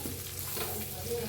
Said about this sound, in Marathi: आता हलवून घेऊया आपण.